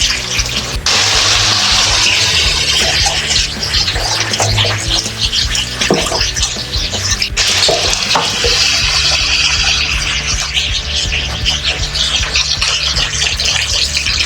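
Chicken pieces for Javanese ayam besengek fry with coriander in a pan, giving a loud, continuous sizzle with scattered pops and occasional scraping and stirring, close up and with no talk.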